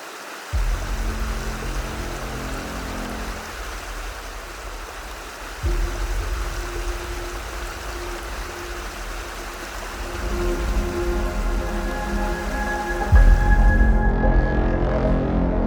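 Steady rushing roar of the Jarogo waterfall in Swat, a dense continuous wash of falling water that swells louder toward the end, with no voices.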